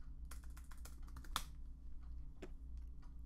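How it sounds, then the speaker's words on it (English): Keys clatter on a Mac computer keyboard in a quick, uneven run of close, distinct taps, with one sharper strike partway through and a few scattered presses after. "and typing in the word Chrome"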